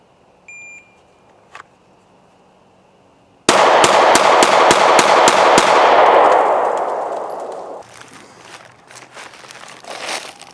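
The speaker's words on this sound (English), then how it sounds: "So it picked up all the shots." A shot timer's start beep at an outdoor shooting range, then a fast string of about eight sharp gunshots ringing out loud and close, the echoes fading into quieter range noise.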